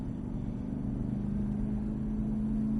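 Steady low engine drone of a car lapping a race track, a continuous close rumble with a sustained tone holding level throughout.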